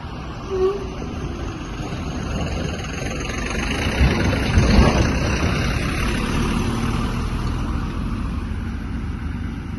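Trucks moving and loading at an agricultural produce market yard, a low steady engine rumble with a heavier pass swelling midway, heard at moderate distance without talk.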